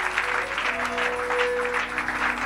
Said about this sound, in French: Toutes les acclamations pour le Seigneur.